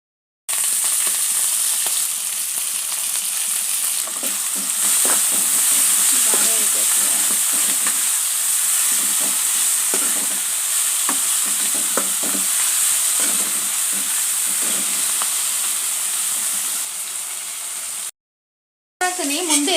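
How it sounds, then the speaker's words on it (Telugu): Fenugreek leaves frying in oil in a home kitchen pan, a steady loud sizzle with occasional stirring scrapes, continuous for most of the time, then a brief cut near the end. "ఎందుకు ఆయిల్లో వేసామంటే ఈ ఆకులు కొంచెం చేదు ఉన్నది కదా ఆ చేదు కొంచెం పోయేదాకా మనం ఇలా వేపుకోవాలి"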